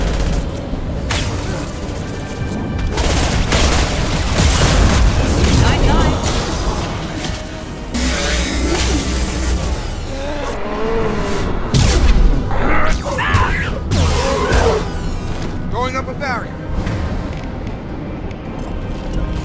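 Heavy weapon fire and explosions in the video game Mass Effect 2, with loud booms, rapid gunfire bursts and rumbling blasts layered over intense combat effects, with in-game voices speaking in places.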